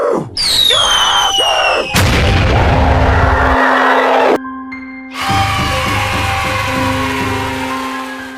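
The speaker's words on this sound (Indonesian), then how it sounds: "Aku akan menembaknya sekarang. Wah, nggak mempan. Coba tembak lagi, Pak." A gun fires at a monster in a video game, two heavy booming shots with ringing electronic tones trailing after them, loud and close over a continuous game soundscape.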